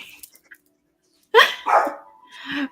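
A dog barks three times at close range during a live online meeting, the sharp barks separated by brief gaps after a near-silent stretch.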